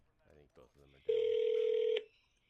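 Over a conference call, a loud, steady electronic phone ring tone sounds for about a second after some muffled talk, then cuts off abruptly.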